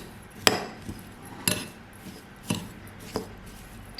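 A spoon knocks and scrapes against a bowl while coconut, raisins, sugar and ghee are mixed into a filling, four evenly spaced sharp taps over a quiet background.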